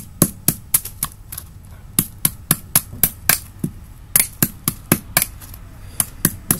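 A drinking coconut gets its husk chipped open with repeated sharp, crisp strikes from a blade or hammer, about two or three per second in short bursts. The hits are close and loud, with no voices.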